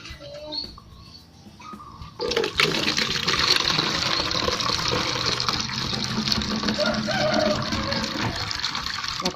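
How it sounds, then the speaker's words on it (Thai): Thai melon seeds are stirred in a container of water with a spoon while being washed, producing a steady, continuous sloshing and swirling of water that starts abruptly and fills the whole stretch at close range. "เราจะล้างเม็ดแตงไทยครั้งที่หนึ่งค่ะเราก็จะใช้ช้อนนะคะ กวนกวนกวน"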